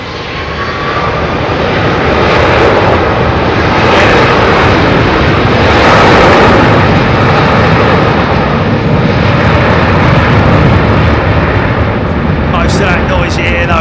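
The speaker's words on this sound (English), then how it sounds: "Most of that noise you hear though is just the thrust coming out of the engines" A loud, continuous roar of jet engines building and sustaining through takeoff at London Heathrow, broad and rumbling, with a speaking voice partly buried beneath it.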